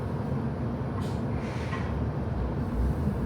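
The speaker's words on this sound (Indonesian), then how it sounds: "Pertama kali Papir naik tram dan bingung banget." Steady broadband rumble of a tram in motion, heard from inside the car as a continuous, fairly loud roll with faint rail and mechanical hiss and no voices.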